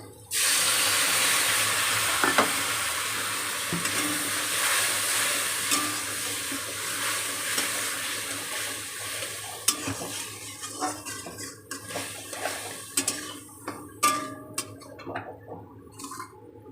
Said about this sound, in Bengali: একটু নাড়া দিয়ে নিচ্ছি